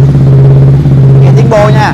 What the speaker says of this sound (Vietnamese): Rồi cho anh em nghe tiếng bô độ. Bô này là AKR1.